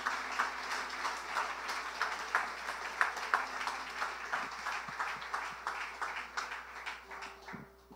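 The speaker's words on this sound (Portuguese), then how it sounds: "Dê uma salva de palmas ao Senhor." Church congregation applauding together, a dense steady patter of many hands clapping at moderate volume that carries on for several seconds before thinning out near the end.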